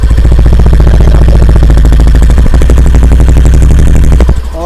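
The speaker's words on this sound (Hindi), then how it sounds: "ग्लैमर का जो एग्जॉस्ट साउंड है कुछ इस तरह से" A Hero Glamour 125 motorcycle idles loudly right at the exhaust, a steady low putter with rapid regular pulses and some mechanical clatter, cutting off abruptly near the end.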